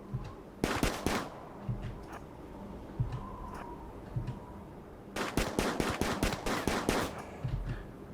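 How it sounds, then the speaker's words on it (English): Rapid bursts of auto pistol fire from a walrus hunt in the icy RimWorld game, a quick double shot followed later by a long run of sharp cracks over low ambient noise. "even with the auto pistol and its rapid fire, this walrus is taking a massive beating before it actually does drop"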